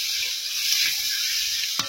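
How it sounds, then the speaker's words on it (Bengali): Potatoes frying in a pan in a home kitchen, a steady close sizzling hiss running evenly throughout, with a brief clatter near the end. "মা এখানে প্রথমে আলুগুলো ভেজে নিচ্ছে"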